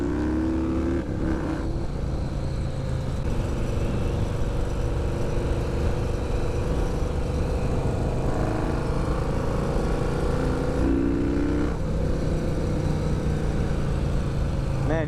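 A Yamaha Road Star Warrior XV 1700 cruiser motorcycle is ridden on South Florida roads, with a loud, continuous engine drone and wind rush and a few rises and dips in pitch as the throttle changes.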